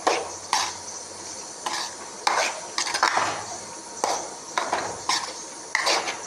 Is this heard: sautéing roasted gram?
yes